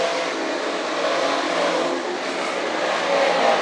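Modified race cars run a feature race at Can Am Speedway, a loud, steady wall of engine roar from the pack with a rising rev near the end, no commentary audible.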